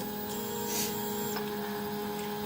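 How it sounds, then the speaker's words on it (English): A 3D printer homes and runs mesh bed leveling, steady electronic stepper-motor whine and hum with a brief higher whir midway, close and moderately quiet, no voices. "The printer's going to go do a level. It's going to do homing first, then it's going to do a mesh board leveling."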